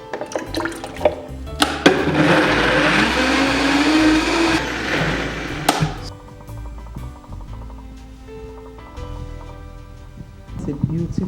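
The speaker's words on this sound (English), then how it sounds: "I'm going to drop the fluids in the blender first, then I'll drop the fruits, then we'll start blending" An electric blender whirs loudly for about four seconds as it purees coconut milk, coconut water, avocado and pineapple chunks into a smoothie. Clinks and a voice come before and after.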